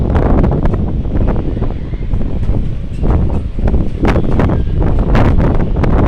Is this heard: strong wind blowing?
yes